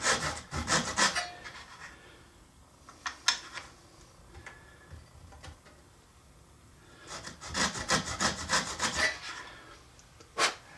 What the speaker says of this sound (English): use the edges of this miter box to guide your saw squarely down into the cut